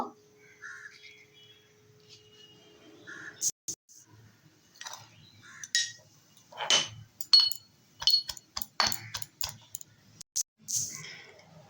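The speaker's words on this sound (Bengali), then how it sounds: "রসুনটাকে থেতলে নেব" Garlic being crushed by hand in a home kitchen, a run of sharp clinking and pounding knocks that grows denser toward the end, fairly close and with no talk over it.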